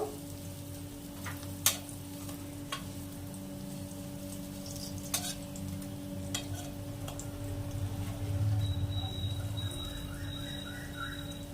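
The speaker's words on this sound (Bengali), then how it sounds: "দেখো বন্ধুরা, এবার আমি বড়াগুলো আবারও উল্টে দেব।" Drumstick flower fritters frying in oil as they are turned, a quiet, continuous sizzle with occasional sharp clicks and taps from the utensil against the pan, under a low steady hum.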